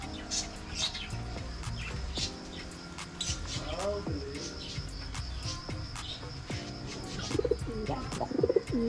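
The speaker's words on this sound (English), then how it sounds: "And meron silang mga birds dito." Birds call around a vacation rental house in Don Salvador Benedicto, with pigeon- or dove-like cooing and chirps that grow more distinct near the end, mixed with steady outdoor background noise and a voice talking.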